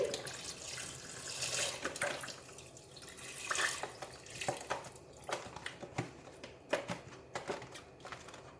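Chicken stock, a full litre carton, pours into a soup pot at home, giving a watery splashing and trickling stream with a few louder splashes and drips toward the end, heard alone.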